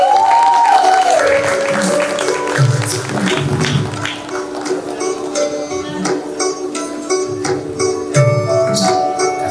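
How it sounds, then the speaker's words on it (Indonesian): Audience applause at a rock concert, clapping mixed with cheering voices and music, rising and falling in loudness over the stretch. "Tepuk tangan untuk Mela Sofia Sianipar"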